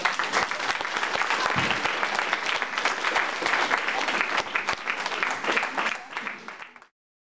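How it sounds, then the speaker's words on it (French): A live audience applauds a drawing done live on stage, steady dense clapping with some voices mixed in, sustained for several seconds before cutting off abruptly. "on applaudit quand même"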